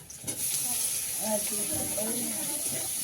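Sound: crab frying with onion and green chilli in pan

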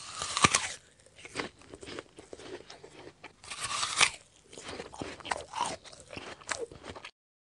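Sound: biting into an apple, from a video game

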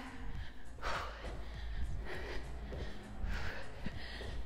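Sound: heavy breathing after a cardio workout

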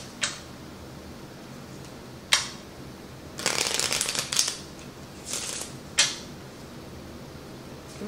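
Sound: shuffling Lenormand and tarot cards

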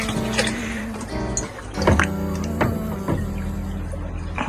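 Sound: water being poured into a betta fish breeding container

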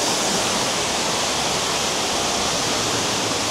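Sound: waterfall rushing

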